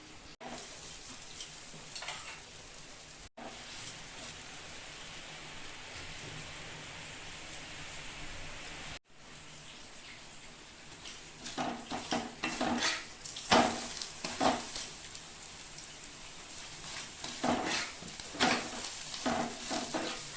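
Matar suti alu paratha frying in a hot pan gives a steady, close sizzle that turns livelier in the second half, with louder crackles and spatters popping over the hiss; nobody speaks.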